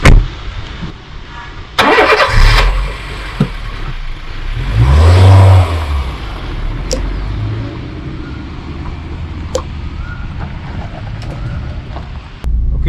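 A Honda City i-VTEC engine cranks and catches, then revs and settles into a running hum as the car drives off, with wind rushing across the microphone and a few sharp clicks.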